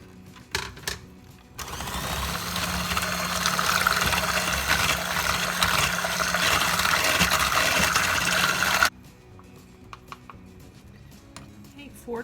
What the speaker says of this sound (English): I was supposed to add the sugar to that